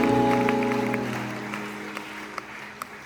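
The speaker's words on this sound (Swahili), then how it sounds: "Na waomba mpigie Mungu makofi vigelegele" A church congregation claps together, loud and sustained at first and then tapering, with a few scattered high ululations breaking through near the end.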